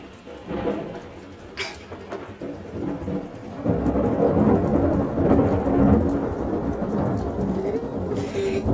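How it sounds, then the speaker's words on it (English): Heavy rain pours steadily in Los Angeles while low thunder rumbles and rolls, rattling windows, growing louder partway through, with occasional sharp crackles. "Thunder and lightning. Oh my goodness. My windows are rattling. It's raining really hard in LA right now."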